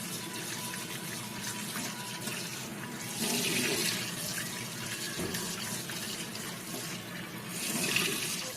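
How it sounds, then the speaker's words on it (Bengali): Running tap water rinses cut loitta fish in a village kitchen, a steady hiss and splash that swells louder twice as the fish is moved under the stream, with no talking. "এবার আমরা মাছগুলোকে ধুয়ে নেব।"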